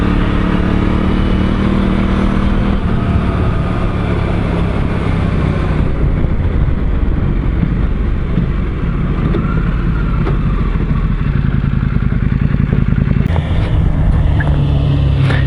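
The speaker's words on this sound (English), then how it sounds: "they're both riding those bikes as they pass" Motorbikes riding past on a slippery dirt track, their engines loud and continuous throughout, droning close by with shifting revs as they pass.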